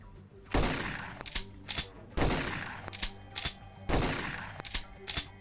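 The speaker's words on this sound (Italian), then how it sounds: "ho provato a sparare dentro a vedere cosa succedeva" Loud gunfire in the game The X-COM Files: three heavy blasts at regular intervals, each followed by a pair of sharp, shorter shots, close and punchy.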